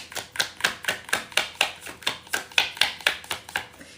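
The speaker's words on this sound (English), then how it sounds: "You don't have to be like good at shuffling. You can shuffle slowly too." Oracle cards are shuffled by hand in a steady run of about fifteen crisp, evenly spaced taps and slaps, close and fairly loud, with no talking.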